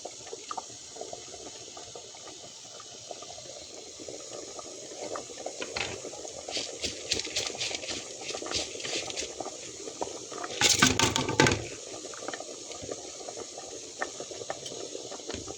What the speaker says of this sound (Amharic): ውሃው በመጠኑ በሩዛችሁ ልክ አድርጋችሁ ትገጥሙታላችሁ።